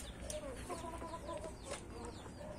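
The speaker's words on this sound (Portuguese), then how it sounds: "Lá pra baixo lá alguns galos também." Roosters and hens at a backyard poultry farm cluck and call in a steady mix of bird sounds, with short crowing bursts rising above the flock, close by and moderately loud.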